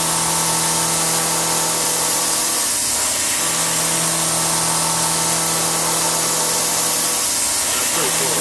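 A CNC machine mills a camera case front from a metal block, a steady mechanical whine and cutting noise running continuously at moderate level with a low hum beneath.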